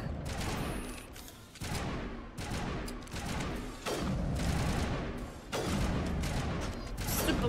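Repeated bursts of gunfire in Mass Effect 1 Legendary Edition, loud volleys in clusters with short gaps between them, mixed with mechanical clatter and booming impacts.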